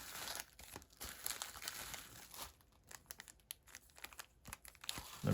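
Football card pack wrappers crinkle and tear open in a quiet room, giving close, soft, irregular rustling and crackling bursts that rise and fall for several seconds.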